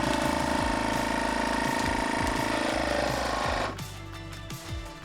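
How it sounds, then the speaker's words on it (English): A vacuum sealer set to moist mode for wet food runs with a loud, steady motor drone and pump pulses, then abruptly cuts to a quieter hum as it switches to sealing. "So let's go and vac and seal."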